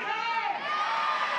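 Rowdy crowd of softball fans in a packed college stadium reacting together, a broad sustained roar of cheers and shouts close and loud throughout.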